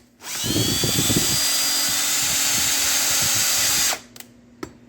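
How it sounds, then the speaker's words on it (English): A power drill whirs steadily at low speed for about four seconds while cleaning brake hubs on a 2003 Dodge RAM 3500 dually, a sustained mechanical whine that cuts off abruptly, followed by a couple of small clicks. "Just run the drill on low speed."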